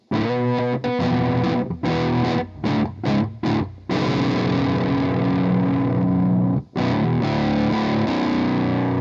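Electric guitar played through a vintage crunch distortion plugin via an ESI Amber i1 audio interface, fizzy sustained chords with a few short choppy stabs and brief gaps, loud and close.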